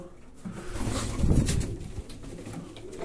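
Soft, low pigeon coos murmur up close in a loft, swelling briefly in the middle, with faint rustling around them.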